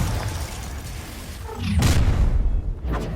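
A Confringo spell explosion in Hogwarts Legacy: after steady low rumbling game ambience, a sharp fiery burst and booming blast erupt midway, followed by a fading rumble and a smaller crack near the end.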